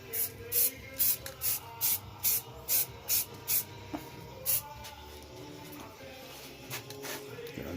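Spray gun bursts apply fresh black paint to small parts of a 1983 Oldsmobile Cutlass Supreme in a small paint room: about ten short, evenly spaced hisses in a steady rhythm, then quieter, sparser sprays with no talk.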